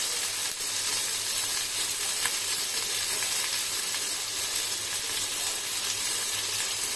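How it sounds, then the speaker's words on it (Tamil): Chopped tomatoes sautéing in a pan over a low flame for a Tamil home-cooked meal, giving a steady, even sizzle and soft frying hiss with occasional light stirring, close and continuous throughout. "கொஞ்ச நேரம் சிம்மில் வச்சு அந்த தக்காளி எல்லாம் நல்லா வதங்கட்டும்ப்பா"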